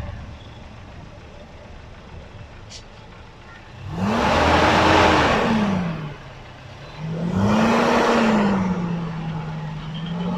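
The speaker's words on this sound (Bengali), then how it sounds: "গাড়ির শব্দটা কিন্তু খুবই স্মুথ আছে বলে মনে হচ্ছে আমার কাছে" A 2004 Toyota Noah engine idles, then revs up twice in two long, smooth swells that rise and fall, heard close with no talking.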